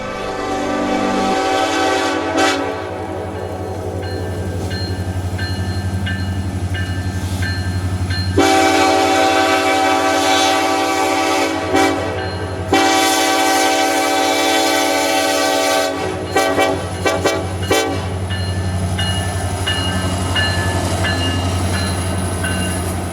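Diesel horn of a lone EMD Norfolk Southern locomotive blasts repeatedly in long and short bursts over the heavy rumble of a freight train passing close, wheels clattering throughout.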